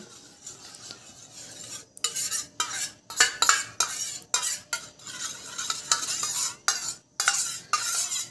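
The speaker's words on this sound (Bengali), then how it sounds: "আমি ভিটামিন ই ক্যাপসুলটা এই দুটো জিনিসের মধ্যে মিশিয়ে নিচ্ছি" Cream mixed with a vitamin E capsule is stirred in a small container, giving a run of short scraping, clinking strokes in an uneven rhythm, close and fairly clear, with no voices.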